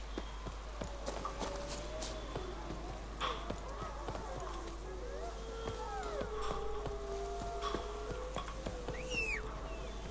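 Roach the horse galloping in The Witcher 3, rapid rhythmic hoofbeats running steadily beneath game music and ambience, with occasional speech over the top.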